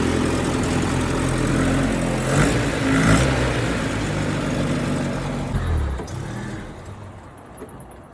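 Engine of a 1976 Toyota Chinook camper running with a loud, steady, rough rumble close by, holding for several seconds before easing down and fading near the end.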